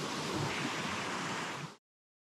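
Waterfall on a mountain stream gives a steady, broadband rush of falling water, close and constant, before cutting off abruptly.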